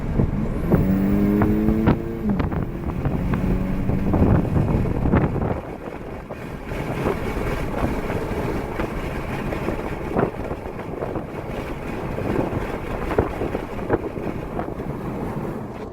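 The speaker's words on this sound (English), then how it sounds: "I'm gonna put the windows down so you can actually hear how it accelerates" Strong wind buffeting and road roar fill the cabin of a 2018 Audi A5 Sportback with 034 Motorsports intake, windows down, accelerating in sport mode, with a rising engine tone early on that fades under the rushing air.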